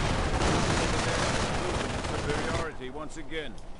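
Loud, dense rifle volleys and machine-gun fire from a World War II strategy game pound for nearly three seconds, then drop away as a voice takes over.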